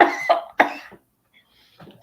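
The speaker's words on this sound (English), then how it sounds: "laughing so hard she's coughing" A few sharp coughs from laughing, in quick succession, close and loud, followed by a brief softer breathy sound after a pause; no one talks.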